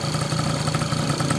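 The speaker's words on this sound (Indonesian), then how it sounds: "Untuk suara mesin seperti ini ya, udah selesai kita bongkar dan udah selesai kita ganti." A restored 1995 Yamaha F1Z motorcycle engine runs at a steady idle, a loud, close, continuous mechanical drone with a fine rapid pulsing and no talk over it.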